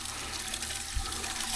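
Water runs steadily from a tap or pipe for washing fish on a coconut farm, a constant close splashing rush with no talk.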